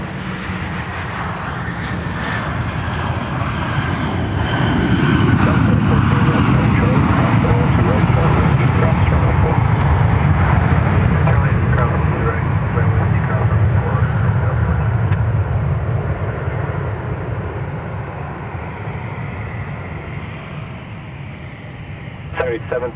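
A Sun Country Boeing 737-8 arriving at Minneapolis–St. Paul Airport roars past with a deep engine rumble that swells to a loud peak mid-clip and slowly fades, while radio chatter and talk run over it.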